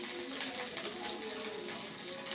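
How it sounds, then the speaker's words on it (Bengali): Crushed ginger and whole cumin fry in hot oil for a cabbage muri ghonto, giving off a dense, steady crackling sizzle close by with no pauses. "এবার এই আদাটা একটু নেড়ে চেড়ে ভেজে নেব।"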